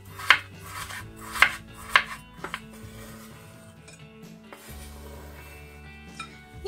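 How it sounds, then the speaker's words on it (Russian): Halva is chopped into small pieces with a knife on a board: three sharp, evenly spaced cuts ring out first, then several lighter taps and scrapes follow, close and clear. "Я сейчас ее помельче нарежу."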